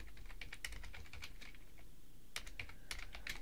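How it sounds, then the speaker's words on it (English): Rapid, uneven keystrokes clatter on a computer keyboard, close and fairly crisp, with a brief pause midway before a second burst of typing resumes. "And I'm done typing that."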